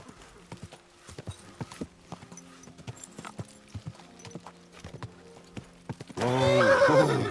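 Horse hooves clip-clop in a quick, uneven rhythm in the medieval video game Kingdom Come Deliverance 2, followed by a loud, close neigh at the end.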